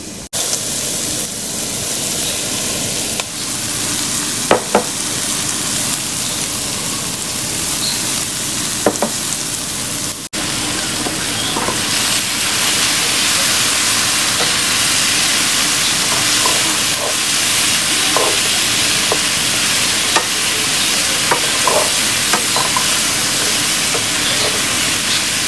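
Sausage, spinach and basil sizzle and fry in a hot pan for a simple pasta dinner, giving a loud, steady close hiss broken by occasional scrapes and clicks of stirring.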